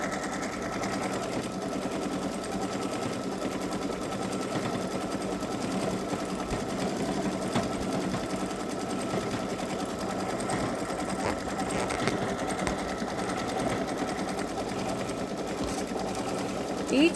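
A Babylock Solaris embroidery machine stitches shading on a hummingbird design, its steady fast mechanical whir running continuously and evenly at moderate loudness throughout, with no pauses.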